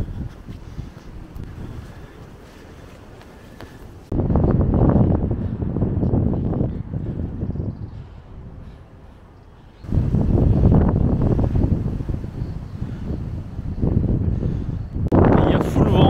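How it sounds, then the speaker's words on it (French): Strong gusting wind batters the microphone outdoors on a high lookout above a town as weather turns bad, loud low rumbling bursts coming in surges with brief calmer gaps between them. "Il y a full vent, le temps commence à se gâter"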